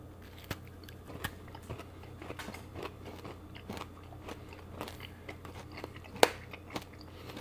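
Close, quiet crunching and biting of chips with scattered sharp crackles at an uneven pace, no talking.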